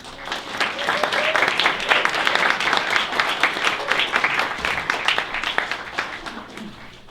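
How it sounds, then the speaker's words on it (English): An audience at a book launch applauds warmly, dense clapping that swells and holds steady before tapering off at the end. "Please give a warm round of applause for Bryan and Carlo"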